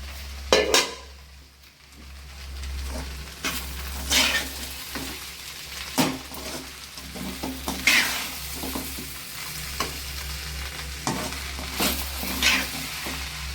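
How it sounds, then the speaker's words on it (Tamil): Leftover rice cooked with green tamarind is stirred in a pan, producing repeated scrapes and clinks of a spoon against metal over a low, continuous sizzle, close by and without speech. "இப்போ திறந்து கிளறி ஒரு வாட்டி கிளறி விடணும்"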